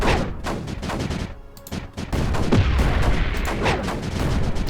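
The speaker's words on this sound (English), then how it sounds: "You still need to destroy the stuff with guns" Rapid gunfire in the strategy game Creeper World 4: dense, sustained bursts of shots and booms that fill the whole stretch, briefly thinning once before resuming at full intensity.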